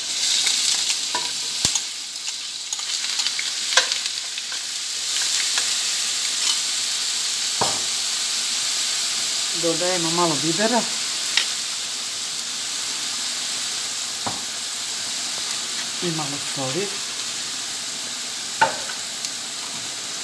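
Finely chopped onion frying in oil in a hot pan, a steady close sizzle and hiss throughout with occasional stirring clinks, while a voice speaks briefly over it.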